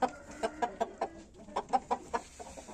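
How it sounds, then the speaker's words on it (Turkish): Roosters and chickens clucking in a coop, a quick run of close, sharp clucks with a short pause midway, a faint voice in the background. "Evet horozları da güzel"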